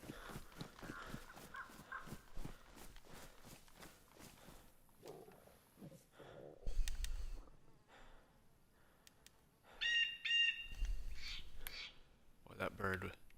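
A bird in an Xbox video game calls in a few bright, repeated chirps partway through, mixed with game sounds, footsteps and someone talking.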